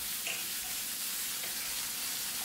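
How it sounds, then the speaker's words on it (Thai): Red curry paste, kaffir lime leaves and pork sizzle and crackle steadily in a hot pan while being stir-fried, a dense even frying hiss throughout. "ผัดสักครู่จนใบมะกรูดเริ่มมีกลิ่นหอม"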